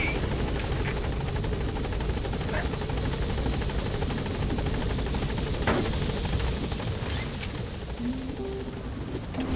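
A helicopter in Metal Gear Solid V drones with a steady, dense rotor thrum that holds loud and unbroken throughout, with faint higher bird-like chirps scattered over it.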